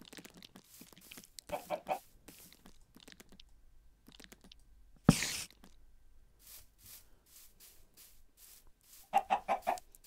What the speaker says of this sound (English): I'll put my chickens here.